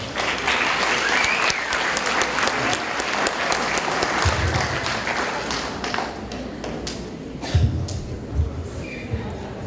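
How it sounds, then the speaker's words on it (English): An outdoor audience at Freedom Fest on Kauai applauds a veteran with dense, continuous clapping. A few thuds and a little crowd noise come through, and the applause fades gradually toward the end. "So please, a big round of applause."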